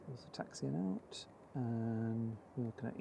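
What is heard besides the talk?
No everyday noises stand out.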